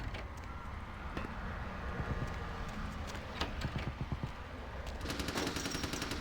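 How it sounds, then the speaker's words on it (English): Bursts of gunfire crackle through a dark city alley in Vampire: Bloodlines, several sharp cracks and rapid volleys at moderate distance over a steady windy background, with a denser clatter of shots near the end. "I like how we can hear the gunfire even though there's no particle effects there"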